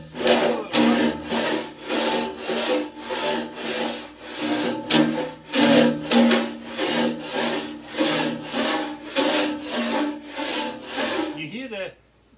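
A long-handled organ pipe rasp scrapes inside an organ pipe, cleaning solder drips out of it, with repeated rhythmic rasping strokes close up that slide along the metal, steady and fairly loud, before ending abruptly.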